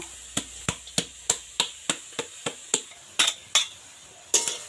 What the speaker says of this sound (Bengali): এরপর কড়াইতে নারকেলের যে পেস্টটা আছে সেটা দিয়ে দেব